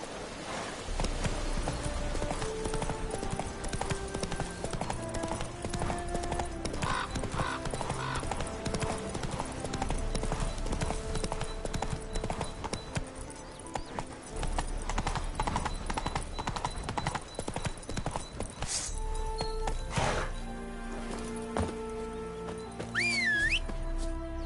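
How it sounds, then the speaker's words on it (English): A horse gallops in the video game The Witcher 3, with rhythmic hoof clip-clops under swelling orchestral game music and a brief whistle near the end. "Run, Roach."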